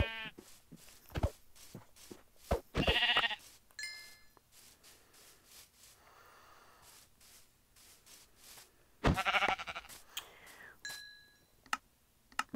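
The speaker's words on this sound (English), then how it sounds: "Now look at these sheep." Sheep in the Minecraft video game give a few short bleats, spaced apart over quiet ambient game sound with occasional soft footsteps and chimes.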